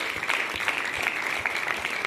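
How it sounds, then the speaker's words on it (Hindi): An audience claps steadily throughout, a dense, even patter of many hands with no break. "कंपनी के फाउंडर डॉक्टर लीम सियोन जी के लिए जोर हाथ ताली होना चाहिए"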